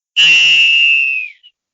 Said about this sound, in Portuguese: Apito final no Boleirando de hoje.